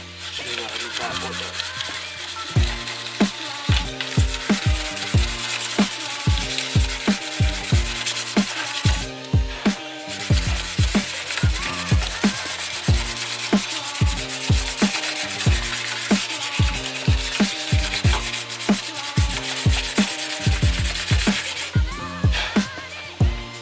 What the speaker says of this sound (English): So I can start sanding it down, be good. So it's right here, 300 grit.